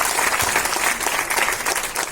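Audience applause at a climate change talk, a dense, steady burst of many hands clapping together that holds for about two seconds without a break.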